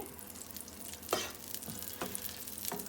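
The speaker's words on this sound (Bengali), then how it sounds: "এবার আমরা বাটারটাকে একটু নেড়ে গলিয়ে নিচ্ছি।" Butter melting in a pan for green chilli chicken, stirred with a few distinct scraping strokes over a quiet, low sizzle, close by and fairly soft.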